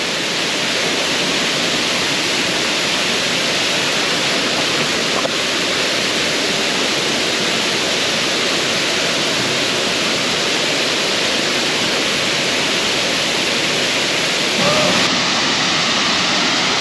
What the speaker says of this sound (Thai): เป็นน้ำตกเล็กๆครับผมมันจะไหลผ่านซอกหินมาครับ